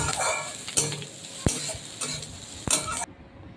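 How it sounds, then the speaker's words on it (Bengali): Chopped onion frying in oil in a pan, being stirred for a Mughlai paratha: close scraping and clinking of a utensil against the pan, with a few sharper knocks over a faint background sizzle. "পেঁয়াজ কুচিটা আবার নেড়ে নেব"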